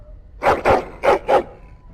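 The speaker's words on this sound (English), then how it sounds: "But listen to that barking!" A dog in the video game Dragon Age: Origins barks four times in quick succession, in two pairs. The barks are loud, sharp and close, and there are no voices.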